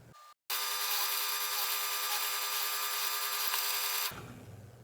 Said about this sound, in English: Now I'll drill a 1/4 inch hole.